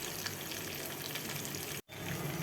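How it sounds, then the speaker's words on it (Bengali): Four pieces of tangra fish fry in a pan with a steady, dense sizzle, close and continuous, broken by one very brief silent gap. "এখানে 4 পিস ট্যাংরা মাছ খুব ভালো করে এপিট ওপিট করে ভেজে নিচ্ছি।"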